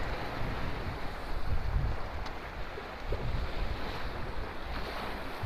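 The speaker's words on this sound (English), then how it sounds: "Listening to the sound of the ocean waves" Ocean waves break and wash along a rocky shore in Acadia National Park, a steady near roar with gusting wind buffeting the microphone throughout, no voices.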